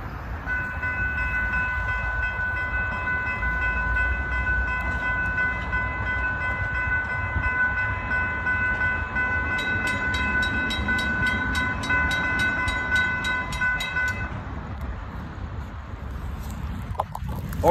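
A Florida East Coast Railway train rolls through a road crossing, its rumble steady and near, while a crossing bell rings in a fast, even pattern that stops shortly before the end.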